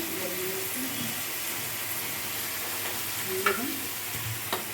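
Yogurt and garam masala being stirred in a cooking pan, a continuous close sizzle with scraping stirring strokes and a few soft knocks against the pan, no voices.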